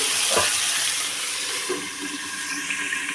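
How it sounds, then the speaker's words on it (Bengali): Broccoli fries in oil in a pan with a steady, hissing sizzle. A soft thump and some splashy bubbling come early on, then the sound settles into an even, close sizzle with no voices. "ব্রোকলিটাকে দিয়ে দিলাম, ব্রোকলিটাকে ভেজে নেব"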